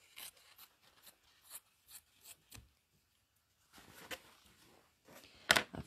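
Scissors rough-cutting around a small ironed-down paper collage piece, a series of close, quiet snips and crisp paper rustles in uneven bursts, with a short pause in the middle and no talking.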